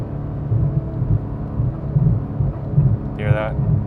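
A Porsche 991 GT3 fitted with a Dundon Motorsport exhaust and headers drones with a steady low engine and intake roar, rising in brief swells, with a short higher whine near the end.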